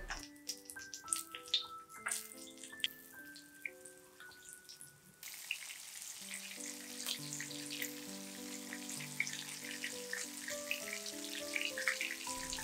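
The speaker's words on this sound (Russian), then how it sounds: "Жарим котлеты на среднем огне по 3-4 минутки с каждой стороны." Zucchini patties fry in hot vegetable oil in a pan over medium heat, with faint crackling pops and sizzle spread throughout beneath a soft melodic background tune.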